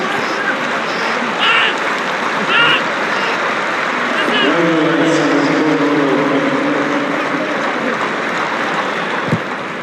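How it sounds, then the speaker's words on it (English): Crowd applause in a rugby stadium during a Japan Rugby league match between Saitama Panasonic Wild Knights and Yokohama Canon Eagles, steady and loud throughout, mixed with crowd noise and a sustained horn-like tone midway. "That's a great round of applause."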